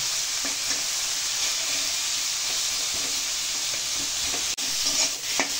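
Beetroot and onion with five-spice, salt and turmeric are stirred in a hot pan, giving a dense, continuous close sizzle with faint spatula scrapes throughout.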